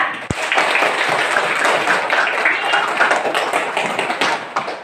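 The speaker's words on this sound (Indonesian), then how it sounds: "Tepuk tangan dulu untuk kelompok 2." Classroom applause at an elementary school, a dense burst of many children clapping together, loud and continuous for several seconds after a sharp single tap at the start.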